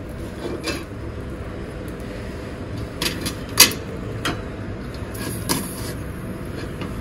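A tin holding caramel rava Christmas cake batter is knocked against a surface before going into a steaming cooker, producing several sharp, separate metallic taps, one clearly louder, over a steady background rumble and no talk.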